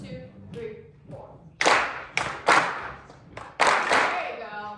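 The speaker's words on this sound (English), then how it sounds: "Can you just clap measure 2 for me?" Hands clapping a measure of a rhythm during a music lesson, a few sharp claps spaced unevenly in a short pattern, with a voice speaking before the claps begin.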